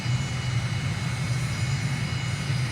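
Aircraft engine idling with the throttle pulled fully back during a landing approach in Microsoft Flight Simulator, a steady low drone with a faint whine above it, continuous and even.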